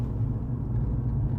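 A Vauxhall Astra VXR with an upgraded exhaust gives a deep, steady engine rumble, low and full, heard from inside or close by, with no talk.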